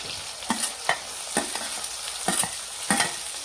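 Tomatoes, chillies and green onions being stirred in a pan for a Gujarati ringan no olo, with about five scraping strokes at a steady rhythm over a faint sizzle, close and moderately loud.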